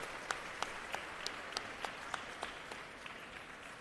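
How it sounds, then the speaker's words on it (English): Convention audience applause in a large hall, a steady distant wash of many hands with a few sharper nearby claps standing out at a regular pace, fairly faint and without talk. "Let's give them one more loud applause."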